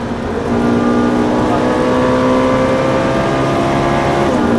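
A Ferrari 458 Italia on a race circuit accelerates hard, its engine note climbing steadily in a loud continuous wail with a gear shift late on, heard from inside the car with faint talk underneath.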